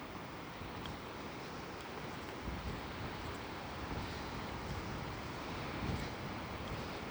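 Ocean waves wash onto a beach in Portugal, a steady broadband roar of surf mixed with wind buffeting the microphone, continuous and fairly loud with slight swells throughout.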